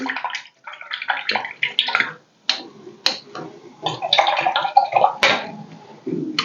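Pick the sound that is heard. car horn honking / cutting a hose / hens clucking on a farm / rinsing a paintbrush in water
rinsing a paintbrush in water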